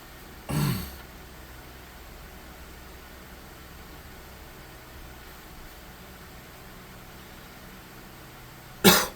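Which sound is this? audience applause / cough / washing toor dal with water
cough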